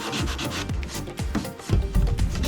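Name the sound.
sanding wood with sandpaper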